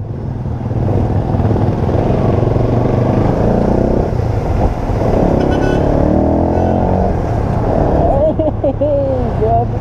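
A 2024 RUSI Flash 150X motorcycle rides steadily with a loud, continuous engine drone and shifting revs, ending with a few rising and falling tones, while a rider's voice runs over it throughout.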